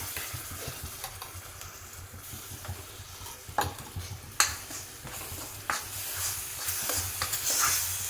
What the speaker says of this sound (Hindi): ये घी में हमने डाला और इसी में हम थोड़ी ये जो मलाई हमने रखी थी ये मिक्स कर देना